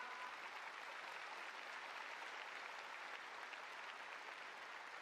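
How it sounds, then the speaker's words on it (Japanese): A basketball all-star game audience gives sustained applause for the MVP in the arena, an even wash of clapping from a large crowd, steady and moderately distant throughout with no talk over it. "大きな拍手をお願いします。"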